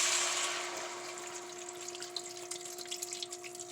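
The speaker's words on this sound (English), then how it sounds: "Next thing I'm gonna do, I'm gonna put water." Water is poured into a pot to start a catfish and shrimp stew, a steady splashing pour that is loud at first, then settles into a quieter trickle with small drips, with no talking.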